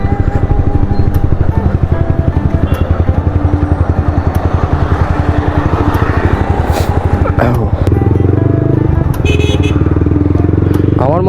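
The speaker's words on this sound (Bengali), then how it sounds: "আমি হায়ার সেসের বাইক চালাচ্ছি" A higher-cc motorcycle with an aftermarket exhaust fitted runs while being ridden, a loud, close, steady pulsing engine drone that shifts pitch near the end as the rider changes speed, with wind rush and occasional clatter.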